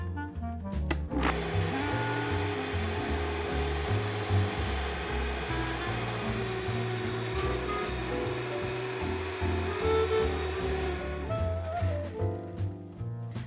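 Blender whirring through a garlic cashew cream with sage, a loud continuous motor roar with a shifting pitch that runs for about eleven seconds before winding down, no voices over it.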